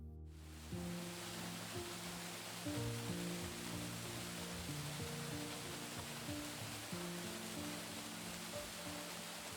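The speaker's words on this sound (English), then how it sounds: "Kuang Si Falls is not just a waterfall, it's an unforgettable nature adventure." Kuang Si Falls, a waterfall, roars in a broad, steady rush that fills the whole clip at an even level, with a low tonal hum running underneath.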